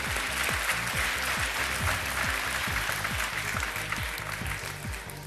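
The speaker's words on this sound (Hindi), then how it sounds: "उत्तर आने से पहले ही ताली बज गई।" Studio audience applause after a correct answer on a quiz show, a steady dense wash of clapping lasting several seconds over a repeating low rhythmic music bed.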